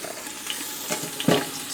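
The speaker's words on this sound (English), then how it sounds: "As soon as you hear it starting to sizzle" Celery and leeks sauté in hot avocado oil, giving a soft steady sizzle with a brief stir or clatter near the end, close by and without talk.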